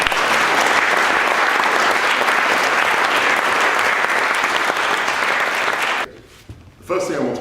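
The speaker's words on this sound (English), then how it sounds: "I think a collective round of applause for all the" A London debate audience bursts into dense, sustained applause that fills about six seconds and then cuts off sharply, leaving a brief voice in the quiet.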